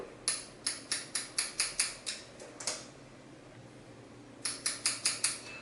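Scissors snip through hair for a one-length long bob cut, a rapid run of about nine crisp, evenly spaced clicks, a short pause, then another burst of six close, sharp snips.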